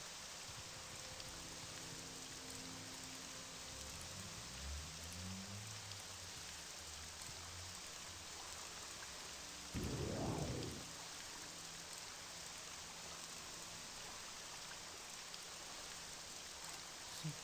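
Steady rain hisses throughout a stormy Morrowind landscape, with a brief loud rumble of thunder rising near the middle before the downpour continues alone.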